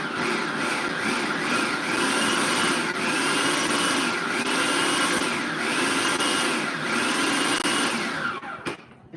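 A food processor chops garlic in one continuous whirring run of blade and motor noise with a rhythmic swishing pulse, steady and close, then stops abruptly at the end.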